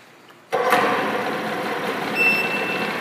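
The outboard motor on a 2001 Ranger Cherokee 16-foot boat starts up after a quiet moment. It catches and settles into a steady, moderately loud running hum nearby, with no talk.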